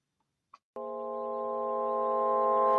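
A short click, then a sustained synthetic tone chopped from a track, holding steady and swelling slightly louder until it cuts off, like a looped sampled note.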